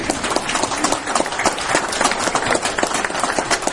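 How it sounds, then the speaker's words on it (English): A seated audience at a wrongful-conviction talk breaks into close, dense applause, a thick continuous patter of many hands clapping briefly. "give yourself a round of applause"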